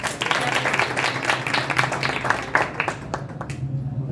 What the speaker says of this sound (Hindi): तो उनको उनके लिए जोरदार तालियां।